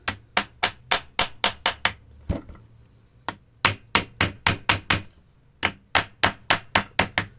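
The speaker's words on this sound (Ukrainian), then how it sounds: "маю такий маленький молоточок. Спробуємо це все дійство акуратненько розібрати." A small hammer taps in quick bursts of sharp metallic strikes while taking apart an asynchronous electric motor, several in a row, with brief pauses between groups.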